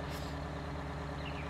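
A heavy truck engine with dual exhaust stacks in Farming Simulator 19 rumbles steadily, a dense and loud low drone without any pause.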